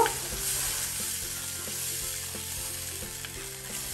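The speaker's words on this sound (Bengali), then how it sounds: "ডালটা দিয়ে নাড়াচাড়া দিব" Soaked lentils sizzling in a hot pan for jeera lau dal, a continuous close frying hiss with occasional soft stirring knocks, no talking.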